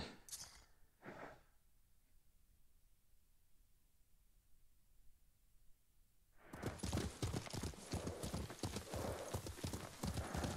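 A couple of brief snorts, a quiet pause, then rapid hooves clip-clopping steadily and close by for several seconds, from the video game Ghost of Tsushima.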